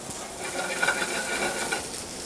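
Chopped cabbage sizzles and crackles steadily in a hot oiled pan, a continuous close frying hiss with light stirring scrapes throughout.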